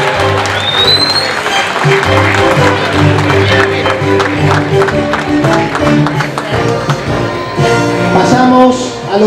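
A crowd applauds a golf award winner at a Sierra de los Padres Golf Club championship prize ceremony: dense, loud, sustained clapping with some crowd noise throughout.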